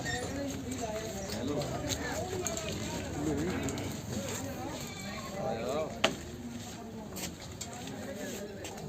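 Goats bleat amid a busy crowd at a goat market in Bargari, Punjab, the calls half-buried under steady nearby talk, with hoof clatter and brief knocks.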